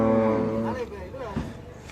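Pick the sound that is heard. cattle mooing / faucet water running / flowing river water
cattle mooing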